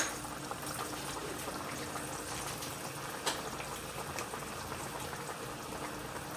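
Water boils in a pot on the stove while Spanish rice is made for a green chili meal, a steady quiet bubbling and roiling with one small clink.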